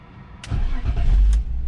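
BMW E46 wagon engine cranking and catching after ECU tuning, a brief starter whir followed by a loud close engine rise that settles into a running note, with no talking.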